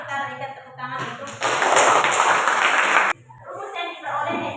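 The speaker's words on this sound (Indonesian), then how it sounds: "kita berikan tepuk tangan" A classroom of students claps together during a maths lesson, a dense burst of applause lasting under two seconds between stretches of a teacher talking.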